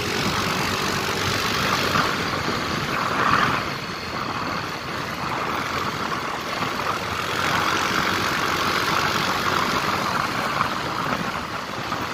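Continuous engine drone from a small motor scooter, steady and nearby, with slight rises in pitch as it runs along; no voices.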